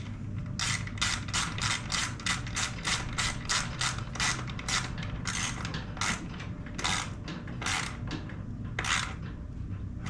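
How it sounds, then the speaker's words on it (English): Rapid clicking of a ratchet wrench during repair work on a John Deere D105 riding mower, a steady run of close, sharp ticks repeating across the whole stretch over a low background hum. "but with a ratchet."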